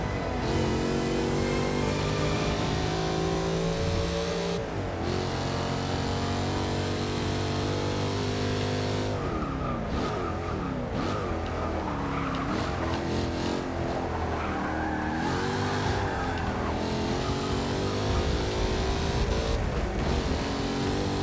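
A race car in Forza Motorsport 6 sliding out of control, its engine droning loud and steady while the tires squeal and skid in long wavering whines, with other car engines mixed in, no talking.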